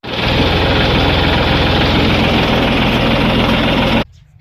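A farm tractor engine runs loud and close in a village field setting, a steady low rumbling drone that holds for about four seconds and then cuts off abruptly.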